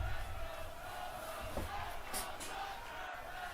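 Mixed arena reaction from a WWE Raw wrestling crowd in Glendale, Arizona: sustained roar of many voices with a few brief louder shouts and bursts rising over the din.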